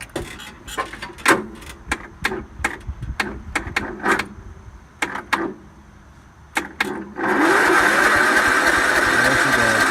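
An old tractor that had been sitting cranks over in a series of sharp, uneven strokes before its engine catches and settles into a loud, steady running rumble.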